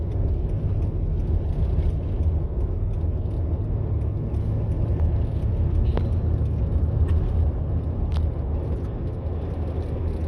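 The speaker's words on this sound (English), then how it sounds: "That's Mike accelerating." A car drives through a dust storm in Arizona, a steady loud low rumble of engine and road noise heard from inside, continuous throughout with occasional faint clicks.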